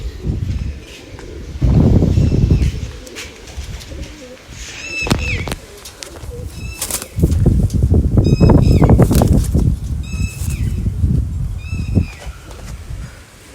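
Several pigeons kept as a breeding hobby give repeated low coos in short bursts, close and fairly loud, with bursts of shuffling and flapping between them and a faint voice now and then.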